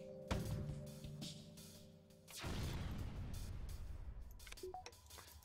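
A sharp synthetic cannon blast followed by a booming, rumbling impact in FTL: Advanced Edition, with faint electronic tones and no talking.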